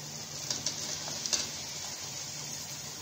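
Capsicum tossed into a frying onion-tomato masala for a Shimla mirch and chana dal salan, giving a steady low sizzle with a few soft stirring clinks, close and fairly quiet, no voices.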